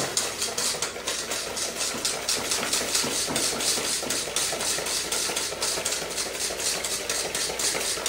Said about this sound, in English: I'm going to take 1 cup of sugar, add it to the eggs, and I'm going to whisk it until thick